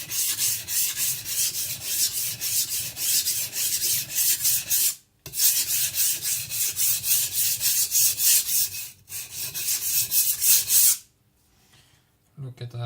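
A Shibata Kotetsu gyuto knife being sharpened on a coarse Shapton Pro 220 whetstone, giving a steady, loud, gritty rasping in repeated back-and-forth strokes with a few brief pauses, then stopping near the end.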